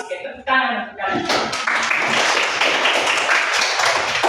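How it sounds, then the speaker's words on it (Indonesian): A classroom of schoolchildren breaks into applause after a short spoken phrase, with clapping rising quickly and holding as a dense, even patter until the end. "tepuk tangan untuk kalian"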